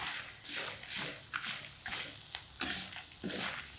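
Curry leaves and garlic roasting in sesame oil, a close sizzle with repeated scraping stirs and crackling pops in an uneven rhythm, no voices.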